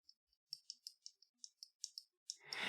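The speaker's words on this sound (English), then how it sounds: "You can even hear it clicking" Detent ball on a folding knife clicking as it rides off the end of its ramp: a run of about a dozen crisp, close, quiet clicks at an irregular pace, followed by a brief rougher scrape at the end.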